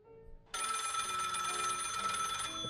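An electronic telephone bell in a horror video game starts abruptly after a brief quiet moment, then rings continuously and evenly, bright and buzzing, with no voices over it.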